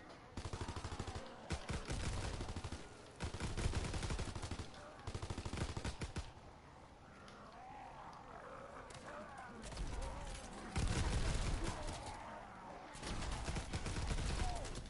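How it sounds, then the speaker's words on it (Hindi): Repeated bursts of automatic gunfire from the World War II zombie shooter game WW2 Zombies, rapid volleys broken by short pauses, loud and close, with overlapping game noise and occasional speech. "मुझे ये नहीं पता मैंने कितनी बार क्लॉस को गोलियां मार दी।"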